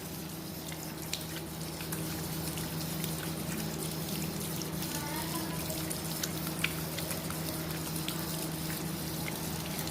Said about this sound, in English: Now we'll wash it with water